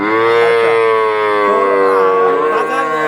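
A loud, close cow at a livestock market gives one long, sustained moo that wavers in pitch and lasts throughout.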